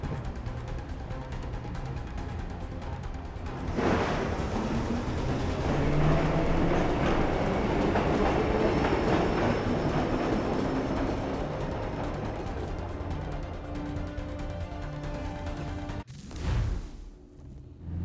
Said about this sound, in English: head for the metro. I'll hold the train for you.